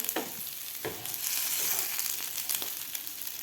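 Jeera aloo potatoes with kasuri methi frying in a pan, a steady close sizzle broken by several sharp scraping stirs of the spatula, with no voices.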